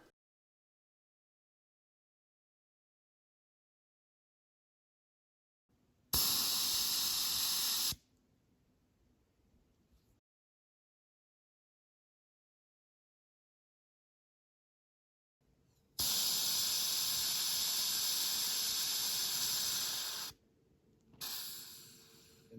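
A can of bear spray is discharged outdoors in two long bursts, each a loud, forceful hiss lasting a few seconds, the second followed by a shorter blast, with silence between.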